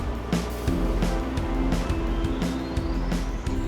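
A motorboat engine runs steadily on Tampara lake, a continuous droning hum with a few soft knocks and bumps, fairly loud and close, with no talking.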